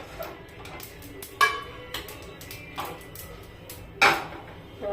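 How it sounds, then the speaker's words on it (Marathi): Roasted sesame seeds are scraped out of a pan into a dish: a few sharp metallic clinks and taps stand out against quiet, soft scraping, with two louder knocks spaced apart. "एका डिश मध्ये काढून घेते मी आता ही।"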